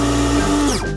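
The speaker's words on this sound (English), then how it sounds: "And I'll blend the milk on my own as well." A milk frother or small blender whirs with a steady high motor whine as milk is blended for coffee, pitch dropping as it winds down and stops within a second; no voices.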